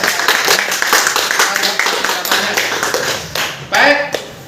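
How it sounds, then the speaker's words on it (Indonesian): Classroom applause for a presenting student group, a burst of many hands clapping steadily under some background chatter, then a louder swell near the end. "Bisa kasih aplaus untuk kelompok 2"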